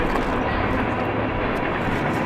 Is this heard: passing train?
yes